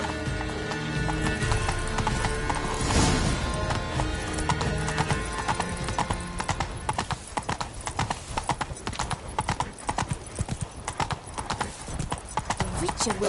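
Hooves pound in a steady gallop from a horse in The Witcher 3, with a whinny rising near the start; game music and other sounds run loud underneath throughout.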